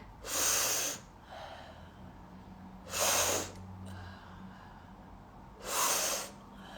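Three long, rushing inhalations through the nose during a guided breathing exercise, each lasting about a second and evenly spaced a few seconds apart, close and fairly loud against quiet room tone.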